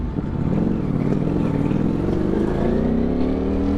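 A Ducati Streetfighter V4, just back from service, revs hard and close on a Bengaluru street, its engine note loud and climbing steadily throughout.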